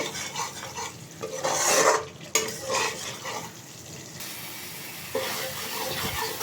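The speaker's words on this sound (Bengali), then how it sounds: "এইভাবে দই দেওয়ার পর আরেকটুক্ষণ কষিয়ে নেব মশলাটাকে খুব ভালোভাবে কষিয়ে নেব" Spiced masala with yogurt is stirred and fried in a pan for a raw jackfruit dish, with a close, scraping, sizzling sound in uneven bursts and a steadier frying hiss toward the end.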